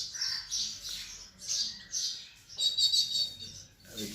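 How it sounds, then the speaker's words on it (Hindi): House sparrows chirp in a home courtyard, a flurry of high, repeated tweets and squawks in short bursts, fairly close and moderately loud, with no talking. "हमारे घर के आंगन में चिड़िया गौरैया जो कि धीरे धीरे लुप्त होती"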